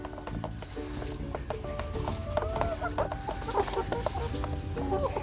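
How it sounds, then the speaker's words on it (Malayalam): Backyard chickens pecking at and eating leaves, giving a busy, close chorus of overlapping clucks and soft calls that continues steadily throughout, with faint scuffing underneath. "വളരെ നല്ല രീതിയിൽ കോഴി അത് ഇലകളെല്ലാം കഴിക്കുകയാണ്"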